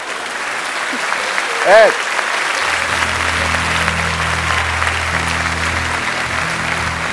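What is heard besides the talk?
studio audience applause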